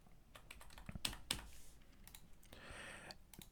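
Soft, close keystrokes on a computer keyboard tap out in an uneven run of quiet clicks, with a couple of slightly firmer presses near the middle.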